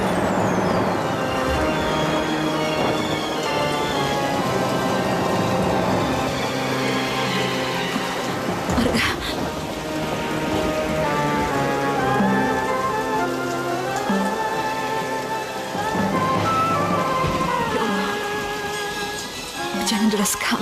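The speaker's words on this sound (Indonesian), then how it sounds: "Hujan deras sekali." Heavy rain pouring steadily throughout, a dense constant hiss beneath a drama scene, with voices talking and music-like tones layered over it.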